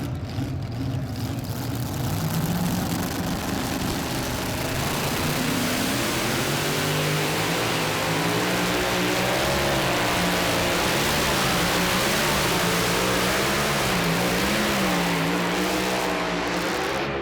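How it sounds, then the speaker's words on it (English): A mini rod pulling tractor at a tractor pull at the Farley Nationals in Farley, Iowa, engine roaring loud and continuous as its RPM swings up and down in waves. "you could hear the RPM shoot up and down as it unloaded those rear tires and then loaded them back up"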